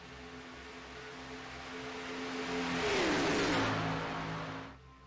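Race cars leaving pit road in a racing video game, an engine rising in pitch and loudness as it revs past close by, then fading quickly away, with no voices.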